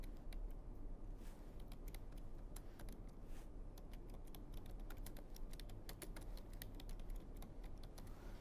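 Steady, rapid keystrokes on a computer keyboard while entering text in Microsoft Word, a continuous close clicking patter with no talking.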